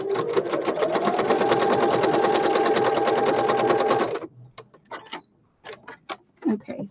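Domestic sewing machine stitching fabric odds and ends together, a loud rapid even clatter for about four seconds that then stops, followed by a few faint handling clicks and rustles.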